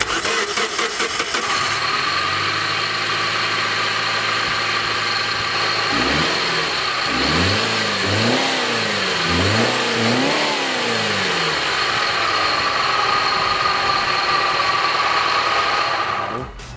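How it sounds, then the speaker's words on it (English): A 2004 Subaru Liberty GT Wagon engine cranks, starts and settles into a steady idle, then is revved several times in rising and falling sweeps before returning to idle, loud and close with no talking. "So now I have the pleasure of the car up and running."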